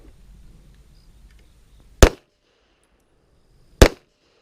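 Two sharp pistol shots at an IDPA match at Charlotte Rifle & Pistol Club, each a loud, crisp crack about two seconds apart, with quiet in between and a faint murmur early on.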